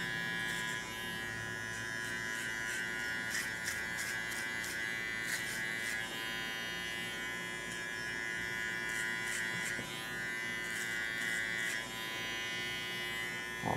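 A barber's electric hair clipper fitted with a number 3 guard buzzes steadily and close while trimming a child's hair, holding a constant hum for the whole stretch with slight changes as it moves across the head.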